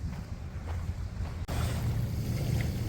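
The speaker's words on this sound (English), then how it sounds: "It's windy." Steady wind gusts across the microphone on Peddocks Island, a low continuous rumble with rushing noise, no voices.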